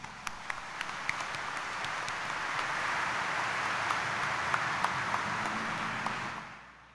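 A large crowd at Quiapo claps steadily in a dense, sustained patter that fades out at the end, heard from some distance.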